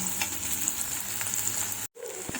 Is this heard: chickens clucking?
no